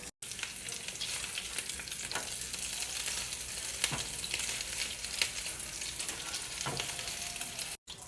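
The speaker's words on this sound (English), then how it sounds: "I have it like on medium-high heat so that way it gets a nice sear." Meat searing in oil in a pan over medium-high heat, a steady dense sizzle and crackle running throughout with a few sharper pops and spatters, close and continuous with no talking.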